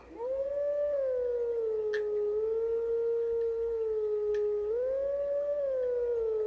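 A howling stone in Zelda: Twilight Princess sings a steady, wolf-like howling melody, one clear sustained tone rising and falling gently, loud and alone without speech.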